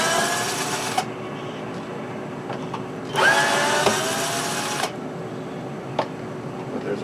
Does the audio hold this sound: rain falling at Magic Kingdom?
no